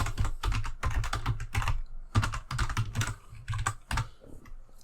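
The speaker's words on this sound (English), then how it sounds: "My typing is atrocious today, please excuse me" Rapid bursts of keyboard typing clatter in uneven clusters with short pauses between, close and clear, with no talking.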